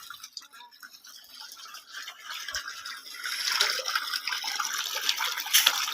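Water from a motor pump pours into a farm tank: a steady splashing, trickling stream that grows louder and fuller partway through, heard up close with no voices.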